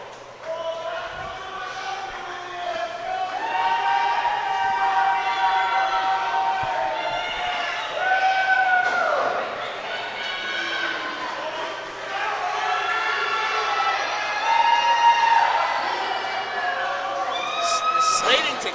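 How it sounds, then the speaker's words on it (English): A wrestling crowd in Slatington roars and chants at a trios match, a loud, sustained wall of voices swelling and dipping with sharp whistles near the end. "The Slatington crowd letting the Syndicate know exactly how they feel."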